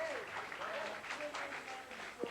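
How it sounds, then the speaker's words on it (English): VIPs including the French Transport Minister applaud at the Channel Tunnel breakthrough as tunnellers exchange flags, a steady wash of clapping under faint overlapping voices and crowd noise, with a brief sharp tone near the end. "The French Transport Minister and assembled VIPs applauded as the two tunnellers exchanged national flags."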